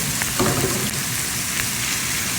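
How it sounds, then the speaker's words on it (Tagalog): Ground meat for stuffed eggplant sizzles in a hot pan, a steady close crackling hiss with a brief stir near the start. "Sunod natin guys ang karne picada o giniling."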